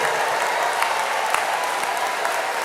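An audience applauds retirees at an end-of-year school district event, a steady dense wash of clapping that holds evenly throughout with no one talking.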